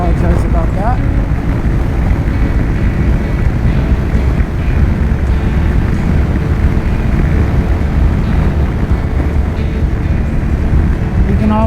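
Strong wind on a mountain top roars steadily against the microphone, a constant loud rumbling buffet that masks everything else for the whole stretch.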